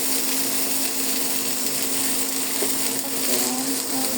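Tilapia fish frying in hot oil in a pan, giving a steady, dense sizzle that stays loud and even throughout with no talking.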